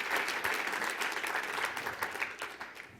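A crowd applauds the athletes at the AAU Sullivan Award ceremony, a steady wash of many hands clapping throughout, fairly close and sustained with no talk.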